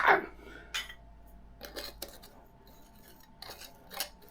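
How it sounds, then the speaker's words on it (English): Small clinks and scrapes of metal canning lids being hand-tightened onto glass jars, several short irregular ticks and rasps close by against a quiet background, with no talking. "we're going to hand tighten these lids on"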